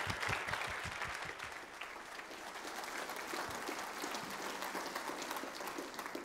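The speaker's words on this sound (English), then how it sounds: "I always get nervous when people clap before you've said anything" Steady, dense applause from a conference audience welcoming a speaker before a talk on the future of the internet, sustained and even throughout, with no voices over it.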